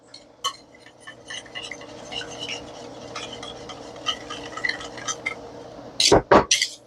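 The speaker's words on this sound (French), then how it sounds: "Je vais mélanger ça avec une tasse de sucre blanc." Butter and white sugar are mixed in a bowl with light clinks and scrapes of a utensil, scattered and irregular, ending in a few louder clatters at the close.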